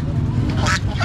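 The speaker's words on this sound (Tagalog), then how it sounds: "Oh, pato." Ducks quack at a busy Saturday livestock market, a short burst of nasal calls close by amid crowd noise and people talking.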